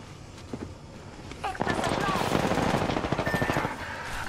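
Rapid automatic gunfire bursts in an Apex Legends match crackle under close team chatter and voiced callouts, with a sustained rattling volley taking over the second half.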